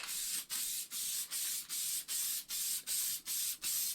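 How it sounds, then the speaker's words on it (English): Short bursts of aerosol lubricant spray hiss onto brass cartridge cases for resizing, in a regular rhythm, about ten quick pulses separated by brief pauses, close and clear. "I always like to spray one side, turn it around,"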